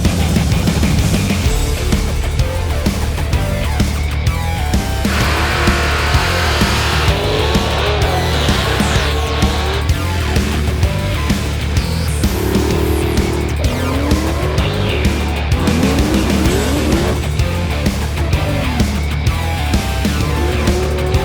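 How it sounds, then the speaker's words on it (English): Cars drifting and drag racing at Holley LS Fest East 2024, with loud, continuous engine roar and repeated tire squeals that rise and fade, no voices. "Off-road, drifting, drag racing, you name it, they got it."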